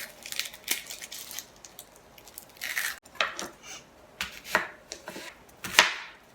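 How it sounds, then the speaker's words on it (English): A knife roughly chops a medium onion, with irregular crisp, close strikes against a cutting board and no talking. "1 medium onion, roughly chopped"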